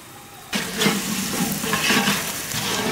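Spices for a 40 kg batch of bagara rice and mutton curry hit hot oil in a large pot at a farm cookout, bursting into a loud, steady sizzle that carries on without a break.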